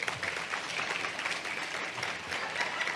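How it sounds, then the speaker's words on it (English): A round of applause from a Chamber of Commerce luncheon audience for an award recipient, dense, steady clapping from many hands that carries on through the whole stretch without a break. "One more big round of applause for Miss Terry Tuttle."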